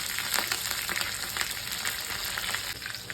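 Garlic, green chillies and curry leaves fry in hot oil for a traditional Marathi taro-leaf bhaji, giving a loud, steady, close sizzle with bright crackling pops throughout and no voices.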